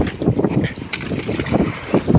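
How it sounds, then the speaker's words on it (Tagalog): Strong, steady wind roars across the microphone at sea with broadband rushing noise and gusty buffeting, alongside the churn of a boat moving through rising waves. "Malakas pati ang hangin."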